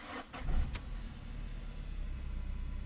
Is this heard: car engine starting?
yes